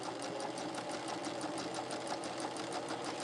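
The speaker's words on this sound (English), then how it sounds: "I'm going to sew from corner to corner" A domestic sewing machine stitches a quilt border from corner to corner in a fast, even, mechanical patter of needle strokes, fairly quiet and heard alone.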